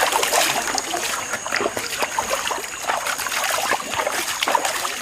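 Water splashes and trickles continuously as a body is rinsed in a cleansing ritual, a close, busy patter of pouring and dripping that stays loud throughout.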